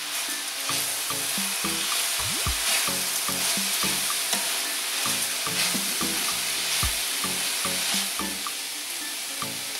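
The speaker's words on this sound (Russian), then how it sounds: "Перемешиваем." Rice with vegetables and turmeric is stirred in a frying pan. A utensil scrapes the pan in repeated rhythmic strokes over a constant close sizzle.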